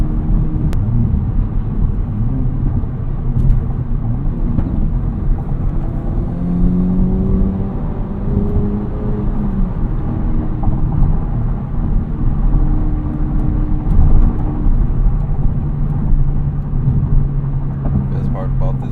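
A sports car engine drones steadily from inside the cabin, its pitch rising and dropping through downshifts, with a voice talking over it.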